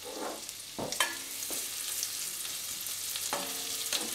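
Onions cook gently in olive oil and butter for a porcini mushroom risotto, with a soft continuous sizzle broken by a few distinct utensil scrapes and knocks against the pan.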